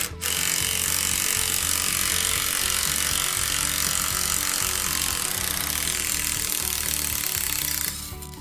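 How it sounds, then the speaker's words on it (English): Hyper Tough 20 volt cordless drill backing a screw out of wood, a loud continuous motor whine with grinding rattle that starts abruptly and cuts off near the end. "So I'm gonna take it out with the same drill"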